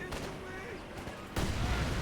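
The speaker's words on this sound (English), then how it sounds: "incendiary mortar barrage" An incendiary mortar barrage in the game Company of Heroes 2 lands with a sudden heavy broadband burst about two-thirds through, after a stretch of quieter battle noise and scattered shots.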